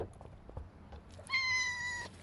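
One cat gives a single drawn-out meow near the end, clear and close, after quiet rustling in a room where several cats are being gathered for a trick session.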